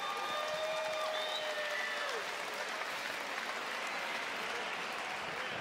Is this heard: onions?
no